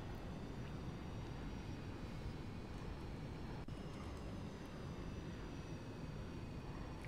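A fixed-wing airliner flying on autopilot in the X-Plane 11 flight simulator gives a steady, even engine and cabin drone that fills the whole stretch without a break.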